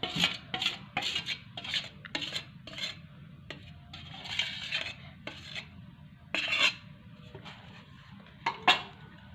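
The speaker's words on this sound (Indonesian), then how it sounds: "Lalu aduk hingga rata." A spatula scrapes and stirs cake batter mixed with margarine and melted chocolate in a bowl, repeated rasping strokes with occasional clinks, close and moderately quiet.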